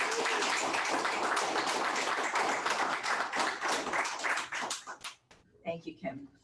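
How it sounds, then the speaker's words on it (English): Graduation audience applauds an honoree with a dense round of clapping that stops abruptly, followed by a voice speaking. "Please give me a round of applause for this amazing woman."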